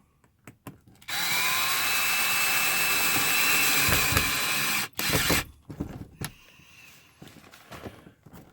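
A power drill drives long screws into wood during an LCD screen install in a Ford Excursion, whirring loud and steady for about four seconds, then stopping, followed by a brief second burst and scattered clicks and handling noises.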